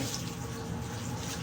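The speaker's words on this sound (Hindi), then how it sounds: "अब इनमें पानी भी डाल देंगे" Steady running water with a hollow splash as water pours continuously into a plastic bag for a moment, close by and fairly quiet.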